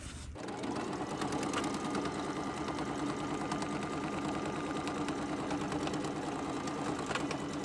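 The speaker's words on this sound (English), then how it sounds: "then we are going to stitch it here to cover that up" Sewing machine stitching a seam on table linen, a steady rapid mechanical whirr running nearly unbroken at close range with no talking.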